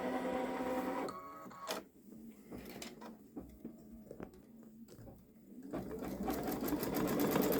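A Babylock Solaris quilting machine stitching an edge-to-edge pattern, humming with rapid mechanical stitching that pauses briefly in the middle, then resumes as a fast, steady buzz close by.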